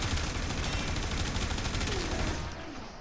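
A Boltor Prime rifle fires in Warframe, a rapid continuous burst of automatic shots that runs for most of the moment and then cuts off, loud and close.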